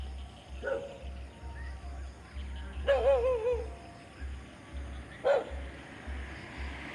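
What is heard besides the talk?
dogs barking in the evening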